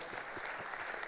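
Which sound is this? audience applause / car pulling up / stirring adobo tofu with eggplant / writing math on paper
audience applause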